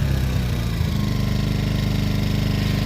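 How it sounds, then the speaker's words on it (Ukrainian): An inverter generator engine runs steadily up close, a loud continuous idling drone with a knocking low-end pulse, after a brief rougher stretch as it settles. "Все, генератор працює"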